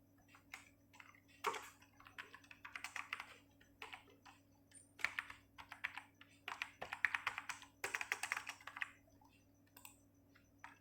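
Someone types form details on a computer keyboard in quiet bursts of rapid key taps with short pauses between, close and crisp over a faint steady hum.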